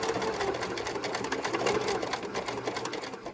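A Kenmore sewing machine stitches a buttonhole, its rapid needle action making a fast, even mechanical chatter that stays close and continuous for a few seconds with no speech.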